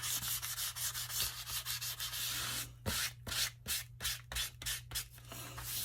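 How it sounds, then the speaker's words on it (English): Sandpaper scrubs back and forth across paper zine pages in steady, rhythmic strokes, close and fairly loud, with no talking. "You can keep sanding until it's as grungy as you like it."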